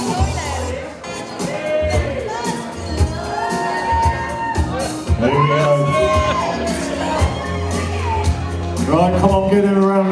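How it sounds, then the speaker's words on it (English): Wedding guests cheer, whoop and shout loudly as the first dance begins, a dense, lively crowd roar with music-like tones and voices mixed in throughout. "give him a round of applause"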